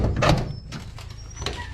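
A wooden hen house shed door is opened, producing a brief close clatter and scrape followed by a couple of lighter knocks.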